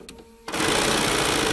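A sewing machine stitching stippling quilting patterns starts after a brief quiet moment and runs at maximum speed, giving a steady, fast, loud close-up whir.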